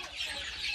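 Chickens clucking nearby on a property with native fowl, a short burst of soft, busy clucks over a steady outdoor hiss.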